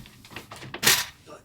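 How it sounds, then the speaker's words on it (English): Sliding shower door for a camper van is threaded into its frame, giving soft knocks and a short scraping clatter near the end, close and fairly loud. "So the door goes in first"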